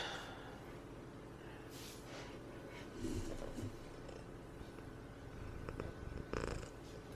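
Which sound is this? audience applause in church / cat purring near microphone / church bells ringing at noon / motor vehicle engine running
cat purring near microphone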